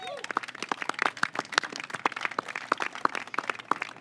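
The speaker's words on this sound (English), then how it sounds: "So let's give them a round of applause." Scattered outdoor audience clapping at a ribbon-cutting ceremony for a city dock bulkhead replacement, sparse individual claps rather than a dense ovation, moderately near and steady for a few seconds.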